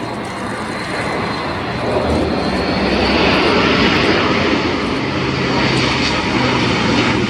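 A German Air Force Airbus A400M Atlas military transport flies a display at RIAT 2025, its engines a loud, steady roar that swells slightly as it passes, with no talk.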